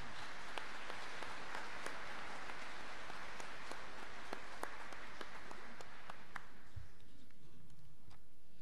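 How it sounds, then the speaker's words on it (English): Applause from a graduation ceremony audience, a dense steady patter of many hands clapping that carries on for several seconds before thinning and dying away near the end. "Would you please join me in expressing our gratitude with a round of applause?"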